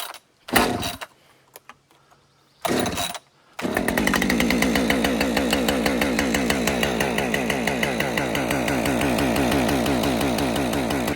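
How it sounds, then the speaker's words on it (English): A Husqvarna 550XP chainsaw is pulled twice from cold with short bursts, then fires and settles into a loud, steady, rapidly pulsing fast idle close by. "Let's get this saw started up"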